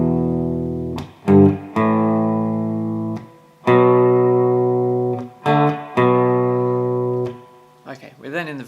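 An electric guitar plays an intro riff, sustained notes and short stabs ringing out clearly and close, with pauses between phrases and a brief voice at the very end.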